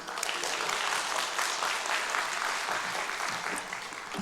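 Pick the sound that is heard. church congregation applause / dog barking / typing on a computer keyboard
church congregation applause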